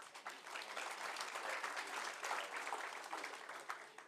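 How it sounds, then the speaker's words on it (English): Applause from an audience at the closing ceremony of the Transform Africa Summit, a steady wash of many hands clapping at moderate distance, fairly even throughout. "A round of applause."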